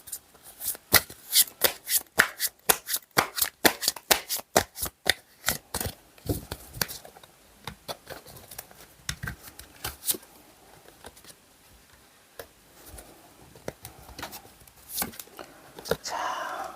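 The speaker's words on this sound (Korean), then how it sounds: "카드 두 장만 더 뽑아볼게요." Tarot cards are shuffled close up in quick crisp riffling bursts that then slow into scattered flicks and slaps as single cards are drawn and laid down.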